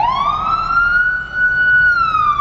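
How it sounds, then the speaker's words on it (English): Emergency vehicle sirens from fire trucks, police and an ambulance on the road, one loud, close wail that rises and then holds a steady tone, heard alone. "There's like fire, there's fire trucks, there's fire trucks, there's police."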